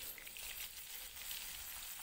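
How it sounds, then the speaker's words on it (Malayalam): Curry leaves crackle and sizzle in hot oil on a wood stove while preparing Kerala-style fried sardines, a faint, continuous hiss with no voices. "ഓയിൽ നന്നായി ചൂടായി കഴിയുമ്പോൾ കറിവേപ്പില ഇട്ട് കൊടുക്കുന്നു"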